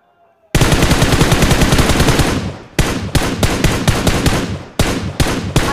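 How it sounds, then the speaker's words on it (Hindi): Automatic gunfire from BGMI, the mobile battle royale game: loud, rapid bursts of shots fire in long strings, broken by short pauses between volleys. "डैमेज देता हूँ, फिर रिलोड करता हूँ, फिर मारता हूँ, टैप टैप करके फिनिश करता हूँ।"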